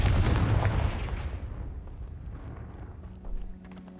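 A Confringo blast spell cast in Hogwarts Legacy lands as a loud, booming burst that fades over a couple of seconds into quieter scattered game sounds.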